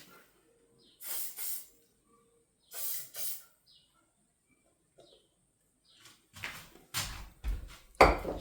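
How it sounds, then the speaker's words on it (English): Short bursts of mold release spray hissing from an aerosol can into a resin mold, two separate sprays followed by a few quicker spurts and rustling handling noises. "I'm going to make sure I spray some mold release in there."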